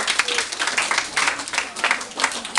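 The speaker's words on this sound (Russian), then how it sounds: "Ладно, спасибо, аплодисменты." An audience bursts into brief applause, a short loud patter of clapping with uneven swells lasting a couple of seconds.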